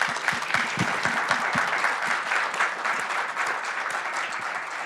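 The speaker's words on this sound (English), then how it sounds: "Please join me in a round of applause for our panel." An audience applauds a panel at an evening healthcare discussion event, a loud, steady wash of clapping from many hands that holds for about five seconds, with a few sharper claps standing out near the start.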